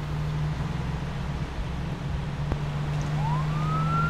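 Police car siren in the video game Arma 3, a steady electronic wail holding under a constant low engine drone, with a rising sweep near the end and a single sharp click midway.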